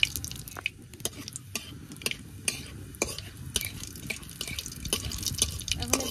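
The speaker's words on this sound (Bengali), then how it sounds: "তেলটা গরম হয়ে গেছে, এখন দিয়ে দেবো কালো জিরে।" Black cumin seeds drop into hot oil in a pan, setting off sharp, scattered crackles and pops over a steady low frying hiss, close and moderately quiet throughout.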